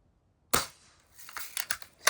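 A Western Justice Lil' Sure Shot spring air gun fires once after silence with a sharp, close snap, followed by a short series of lighter clicks and rattles from handling the gun.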